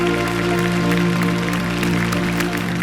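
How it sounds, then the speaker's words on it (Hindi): Loud, steady applause from a television studio audience at a contestant introduction, a continuous dense wash of clapping that fills the whole stretch with no pauses. "इनके लिए जोरदार तालियां।"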